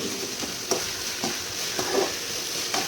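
Tomato stirred into a frying masala for soya chunk veg biryani: a constant close sizzle with several spoon scrapes at a steady pace, and no voices.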